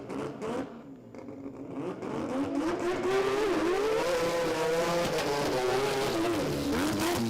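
A 20B three-rotor rotary drag race car at a Brisbane drag meet, accelerating loud and close with a rising, sustained engine howl that builds after a quieter start and holds for several seconds.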